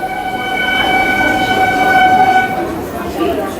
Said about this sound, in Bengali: আবার ট্রেন চলে এসছে।